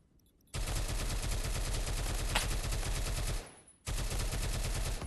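Sustained automatic gunfire from a first-person shooter game, Phantom Forces, with rapid shots rattling loudly and continuously, a brief pause near the end, then the burst resumes.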